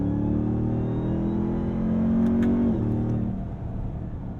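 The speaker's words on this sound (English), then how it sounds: "Hear that pop of the upshift?" A 2022 RAM TRX truck engine revs hard with a loud, close, sustained drone that climbs in pitch, then a paddle upshift drops the tone with a brief pop before the engine settles lower.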